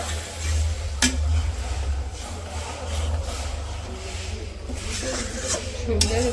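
Minced meat being stirred and fried in a pot over a village kitchen fire, with a steady sizzle and the scrape of a utensil against the metal, plus a couple of sharp clinks.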